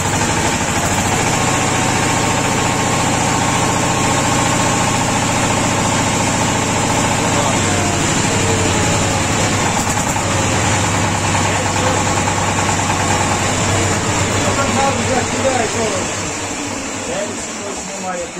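Homemade mini tractor engine idles steadily and loudly close by, a constant mechanical drone that shifts pitch mid-clip as it is revved, then eases slightly at the end.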